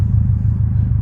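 A 2021 Subaru STI with aftermarket exhaust, a loud, close, steady low engine rumble and drone from inside the car during a brief moment.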